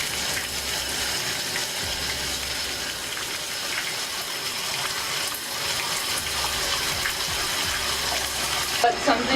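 Steady broadband rush of hot water gushing from a tap into a bathtub, continuous and fairly loud throughout with a slight clatter near the end.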